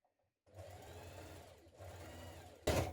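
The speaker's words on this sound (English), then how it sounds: "we're going to do another line of stitching all the way around in exactly the same way" A sewing machine runs a continuous line of stitching around a dress neckline, humming steadily in two long runs with a brief pause between and a louder clunk at the end; no talking.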